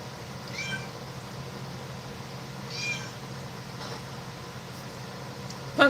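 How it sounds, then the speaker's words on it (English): A cat sitting on a bucket gives two or three drawn-out meows that come through faintly over a steady background hiss, and a short sharp sound follows at the end. "sitting on one of my buckets meowing"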